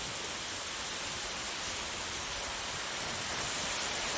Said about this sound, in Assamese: মাত্ৰ 2 মিনিটমান হৈছিলেহে আৰু আহি গ'ল বৰষুণ